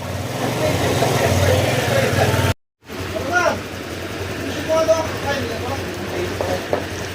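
A Honda Click 125 scooter that had trouble starting fires up and settles into a steady running idle, loud and close, broken by a brief gap of silence, with faint talk in the background.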